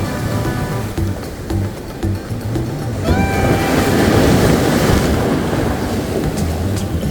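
Ocean waves wash steadily against the shore at a sea fishing spot, a continuous broadband rush that swells louder midway through and stays close and full, with no talking.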